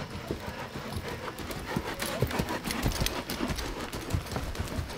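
Horse cantering in a dressage arena, its hoofbeats thudding in a steady rolling rhythm at moderate distance over broad background noise, with no talk heard.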